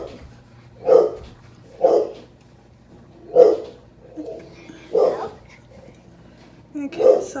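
A dog barks six times at uneven intervals, each a single loud, fairly close woof with quiet gaps between.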